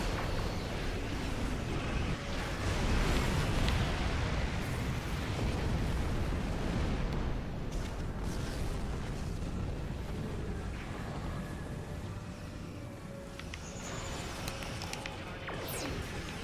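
Starship weapons and explosions in the Star Trek Online video game make a dense, loud roaring rumble that stays steady throughout, with faint high tonal effects near the end.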